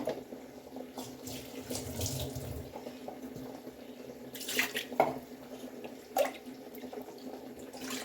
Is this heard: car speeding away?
no